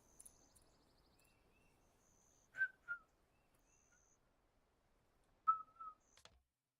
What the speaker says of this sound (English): There's a bird whistling.